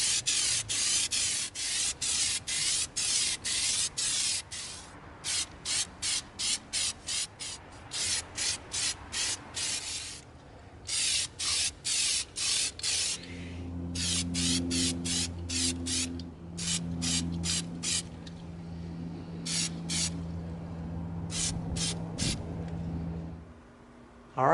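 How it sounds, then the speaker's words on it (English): Plastidip coating is sprayed onto an EVA foam Thunderbirds raygun in repeated hissing bursts of rapid pulses, close and steady, with a low hum and a vehicle rumble joining midway. "We're going to begin coating our Thunderbirds Ray Gun with our Plastidip."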